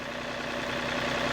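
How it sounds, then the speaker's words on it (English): A log skidder's hydrostatic drive whines steadily under load with the engine running, a continuous close drone with no change through the short stretch and no talking. "You can hear that hydrostat whine."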